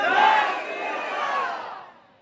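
A large crowd at an Islamic religious gathering in Pakistan shouts a loud unified chant in response to the Nara-e-Risalat slogan, swelling for about two seconds and then fading.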